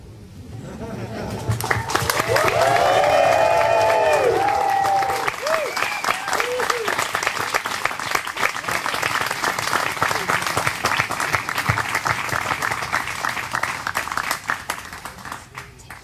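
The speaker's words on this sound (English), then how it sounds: "You can celebrate with a kiss, and we will cheer you on." Wedding guests at a ceremony burst into loud applause and cheering after the couple's kiss, a dense, sustained clapping with excited whoops and shouts early on that settles into steady crowd clapping.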